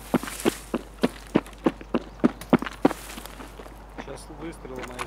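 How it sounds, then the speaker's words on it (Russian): A quick, regular run of about a dozen video game footsteps, sharp and fairly close, fading out before a brief voice near the end. "я вроде несколько шагов слышал"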